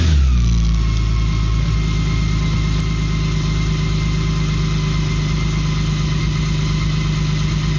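A BMW K1600 GT motorcycle's engine runs close by, starting with a brief rev and then settling into a steady, loud, even idle that continues alone for several seconds.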